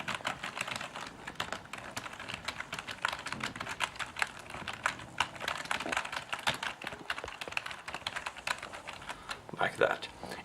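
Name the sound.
typing on loud rubber dome keyboard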